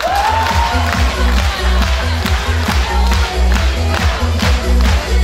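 A school audience at a KVN comedy contest in the Beloglinsky district claps and cheers steadily, a dense, loud wash of applause with shouts and whoops throughout.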